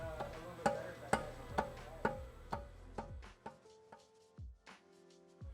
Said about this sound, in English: so we use a rubber mallet to knock it in.